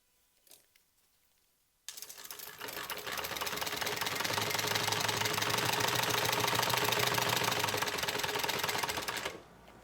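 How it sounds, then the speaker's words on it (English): A sewing machine top stitches a tote bag in a steady, fast mechanical whir that runs for about eight seconds after a quiet start, then stops abruptly. "But we are going to top stitch."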